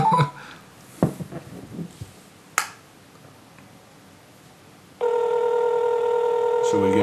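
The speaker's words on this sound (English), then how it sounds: "let's try and call Derek" An outgoing phone call rings out with a steady electronic tone after a few clicks and taps, the ring continuing unbroken to the end.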